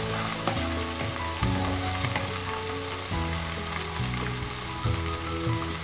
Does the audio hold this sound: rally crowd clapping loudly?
no